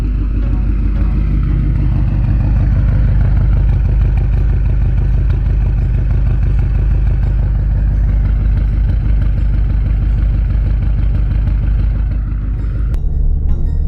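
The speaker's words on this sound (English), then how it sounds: "the exhaust sounds way deeper right off bat" A pickup truck fitted with an aftermarket Dinan or aFe intake gives a loud, deep, steady exhaust rumble that runs continuously, shifting slightly near the end.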